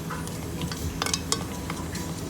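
Spoon stirring buttermilk with coriander leaves and curry leaves, a few light clinks and scrapes against the vessel over steady low kitchen noise.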